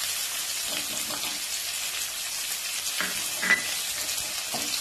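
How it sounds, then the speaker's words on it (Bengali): Onions fry in a pan of oil for a Bengali fish curry, producing a soft, even hiss of sizzling with a few faint stirring scrapes now and then. "পেঁয়াজটা একটু ভেজে নেবো কিছুক্ষণ।"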